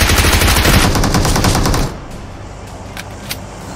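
Loud automatic gunfire from the video game PUBG Mobile rattles in a dense burst, then gives way to a few quieter, scattered shots.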